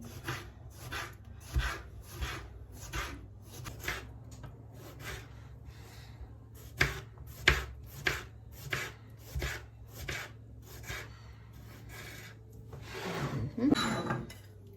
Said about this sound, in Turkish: domatesleri de hemen hızlı bir şekilde doğrayalım